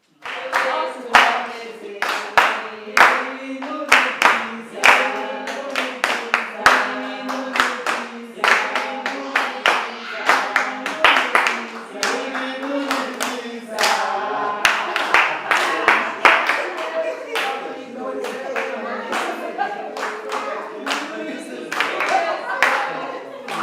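Wedding guests clap in a brisk, rhythmic pattern of sharp hand claps, close and fairly loud, with voices mixed in beneath the clapping throughout.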